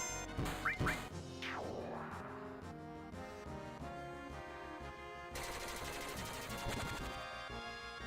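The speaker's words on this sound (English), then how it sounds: "they shoot machine gun fire out of them" Enemy machine gun fire from the Final Fantasy VII video game, steady and moderately loud over game music, with a sharper burst of shots near the end.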